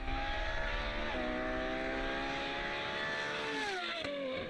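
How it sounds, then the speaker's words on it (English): A modern Ferrari engine passing by, a sustained high-pitched tonal whine at moderate distance that holds steady then drops in pitch as it goes past, faint and without talk. "they sound like no other modern Ferrari does"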